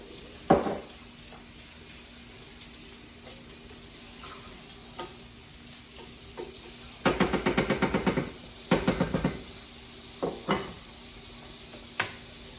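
Portobello mushrooms cooking in a pan with a little water, a soft steady sizzle broken by bursts of stirring and scraping, with a few sharp clinks; no one speaks.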